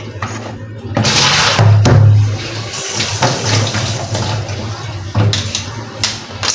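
A kitchen knife being washed under a running tap: water gushes and splashes loudly in bursts, stopping and starting a few times, with brief thumps between the flows.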